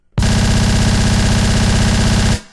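A Maschine arpeggiator plays an extremely fast synth pattern that rattles like a machine gun, a dense loud burst starting abruptly and stopping after about two seconds.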